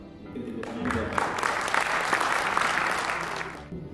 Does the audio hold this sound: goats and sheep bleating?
no